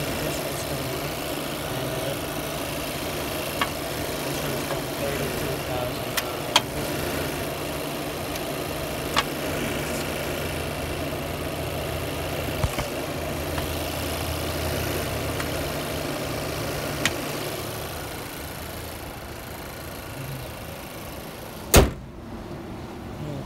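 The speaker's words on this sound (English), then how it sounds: "This is the engine." A 2018 Chevrolet Equinox engine idles steadily with a low, even hum and faint ticking, heard close and alone for about twenty seconds before a sharp click near the end.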